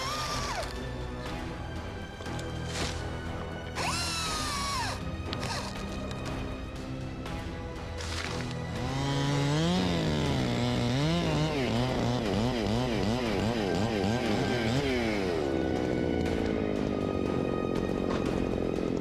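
Chainsaws cut through big wood, engine droning loudly and continuously with rising and falling revving as the blade bites in, then a steady high whine, with machinery noise behind and no talking.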